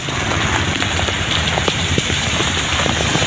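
Heavy rain falls steadily on a road during a journey, a dense continuous hiss with scattered droplet patter and no one speaking.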